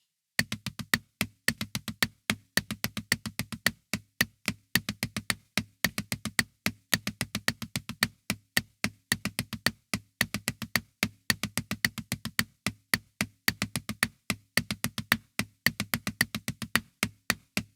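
A drum single-stroke roll exercise: rapid bursts of eight even sixteenth notes followed by four slower eighth notes, a steady dry pattern played close with no voices.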